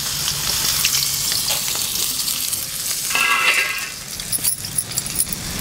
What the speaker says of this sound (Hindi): अब हम इस आलू को फ्राई कर लेंगे।